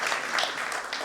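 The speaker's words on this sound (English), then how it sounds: "Please welcome her with a huge round of applause" Audience applause at a nursing conference panel in a Mumbai hotel ballroom, welcoming a doctor onto the stage; dense, steady clapping from a large crowd filling the whole moment, with no pause.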